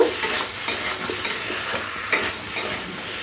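Pumpkin, shrimp and Malabar spinach curry is stirred in a pan, a spoon scraping in a regular rhythm of about eight strokes over a close sizzling hiss, with no speech.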